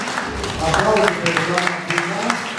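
Audience applause at an autumn cultural event in a Romanian cultural centre, a steady wash of clapping with a voice speaking over it.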